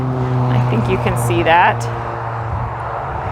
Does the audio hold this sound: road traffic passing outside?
yes